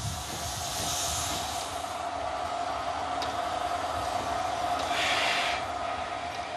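Train pulling into a station platform in Brandenburg, Germany, a steady loud rumbling roar with a sustained tonal hum and brief hissing swells.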